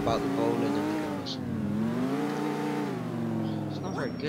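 Car engine in the video game GTA IV driven across sand, a close, sustained revving tone that rises and falls in pitch with a few brief squeals.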